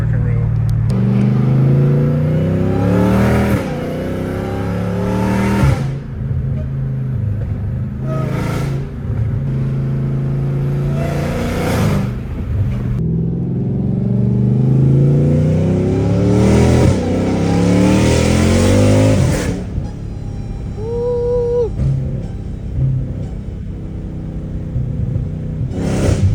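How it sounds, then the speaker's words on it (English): Dodge Challenger Hellcat Redeye accelerating hard with its supercharger whining, loud rising engine sweeps broken by quick gear shifts, heard from inside the car with a person talking over it. "That blowout of the whine, I used to never hear that."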